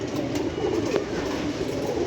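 Captured pigeons in Punjab cooing and fluttering close by, with a steady busy background hum and a brief sharp knock near the middle; no talk.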